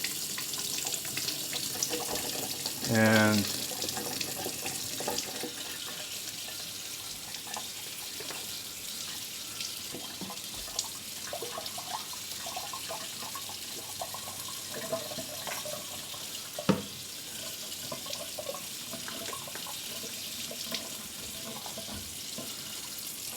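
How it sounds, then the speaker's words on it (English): Hot water runs from a tap into a sink in a steady, fairly quiet hiss and splash, with a brief clatter near the start and a single spoken word buried under the flow. "Turn on some hot water."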